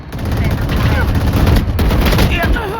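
Loud, sustained Valorant gunfire, rapid overlapping shots and impacts rolling on for several seconds with only a brief dip partway, close and forceful, with a voice faintly mixed in.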